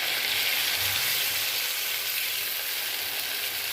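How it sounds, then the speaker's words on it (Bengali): Vegetables sautéed for a fish curry sizzle steadily in the pan after water is poured in, giving a broad, even hiss that holds at a moderate level throughout without speech. "এবার আমি এতে পরিমাণ মতো জল ঢেলে দেবো।"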